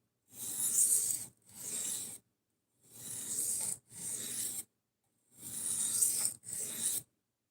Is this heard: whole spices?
no